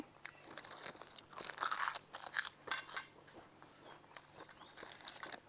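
Crunchy food chewed close to the mic in an ASMR salmon sashimi meal with seafood dipping sauce, wasabi and garlic fried rice, giving repeated crisp crackling bites in steady bursts with no talking.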